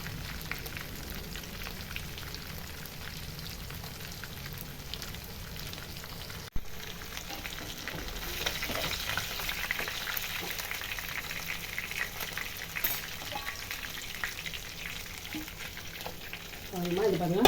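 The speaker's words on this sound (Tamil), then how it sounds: "இந்தமாதிரி கருவேப்பிலை போட்டு பொரிச்சா ரொம்ப நல்லா இருக்குமா" Curry leaves fry in hot oil while making a Kongu Nadu biryani, a dense, close, steady sizzle and crackle that swells as they are stirred.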